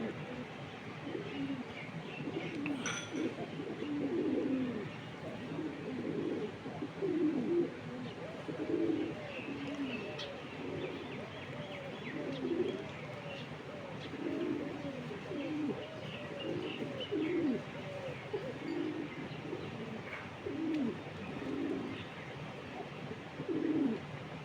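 Domestic pigeons kept in a home loft coo softly and repeatedly in low, rolling phrases, with a few faint chirps mixed in, steady and fairly close across the whole stretch.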